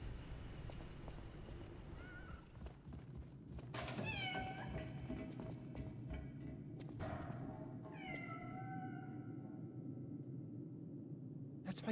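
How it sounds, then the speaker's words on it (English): A cat in the video game Lies of P meows twice, clear drawn-out cries several seconds apart, heard over a murky low ambient backdrop with scattered soft clicks. "Bro, that's my cat, dude."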